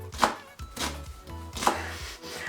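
Knife chopping onions on a cutting board in a home kitchen, a few distinct knocks in an uneven rhythm, close and fairly loud, with a low background hum and no talking.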